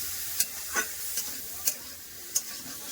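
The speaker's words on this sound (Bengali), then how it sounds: "তেল গরম হয়েছে চিংড়ি মাছটা ভেজে নেবো" Small shrimp fry in hot oil in a kadai, a quiet steady sizzle punctuated by several sharp spits and crackles, with no one talking.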